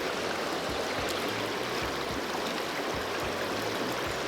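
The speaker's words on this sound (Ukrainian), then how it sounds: "річка трошки шумна, ну, гірська" A rushing mountain river in the Carpathians gives a constant broad roar of running water, dense and steady, with no voices over it.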